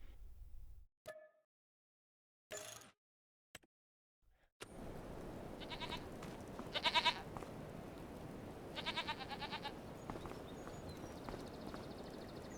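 Goats bleat a few times in short bursts in Farming Simulator 25, first against silence and then over a steady background hum, with some clopping sounds mixed in.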